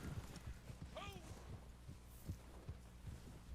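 A horse's hooves clip-clop steadily at a walking pace in the video game Red Dead Online, faint and low beneath a soft background hum, with one brief tonal call partway through.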